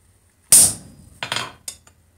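A hammer strikes a curved chisel to mark out hot metal, giving three sharp metallic taps with a ringing first blow and lighter follow-ups in a short, quiet setting.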